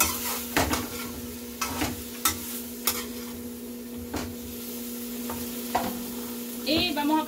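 Fried sausages sizzle softly in a pan for Italian spaghetti while a utensil stirs and scrapes them, producing sharp intermittent clanks over a steady frying hiss.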